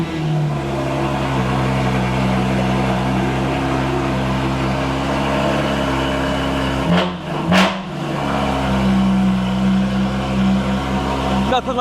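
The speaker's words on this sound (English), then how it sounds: "now we're in this GT4 RS. I'll let you guys get your opinion on this exhaust." Straight-piped Porsche GT4 RS exhaust droning steadily from inside the cabin, a loud low engine tone that briefly dips and blips around the midpoint before settling back into a sustained rumble.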